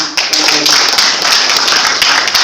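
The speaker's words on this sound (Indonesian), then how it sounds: "Mari kita berikan tepuk tangan" An audience at a student association inauguration ceremony in Bengkulu claps in a loud, scattered burst of applause, with sharp individual claps over a brief rush of noise.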